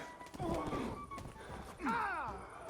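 A horse in the medieval game Kingdom Come: Deliverance II whinnies twice, a shrill neigh early and another near the end, over soft hoof clops and background noise during combat.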